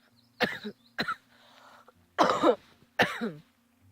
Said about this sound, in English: Sorry, I've had a cough.